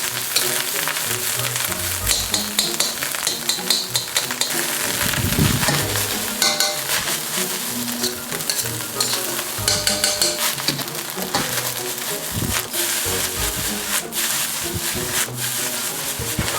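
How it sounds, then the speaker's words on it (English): Prawn fried rice stir-frying in a pan as eggs are broken up and mixed through the rice, a loud steady sizzle with scraping and tossing strokes throughout, no voices. "try and break up the eggs and just really mix it into that rice"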